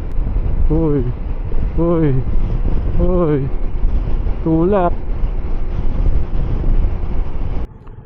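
Strong gusty wind roars steadily across the microphone outdoors, a loud continuous rumble that ends abruptly near the close, while a voice speaks a few short words over it.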